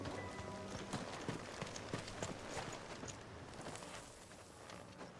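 Horse hooves clip-clop in a steady, fairly close rhythm while a horse is ridden back to the stables in Final Fantasy 16, carried over a constant background bed without any talk.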